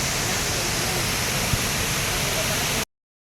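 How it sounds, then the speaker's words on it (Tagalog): Bolinao Falls in Pangasinan pours with a steady, broad, hissing roar of rushing water, constant and close, cutting off abruptly near the end. "Dito ako ngayon sa Bulinaw Waterfall."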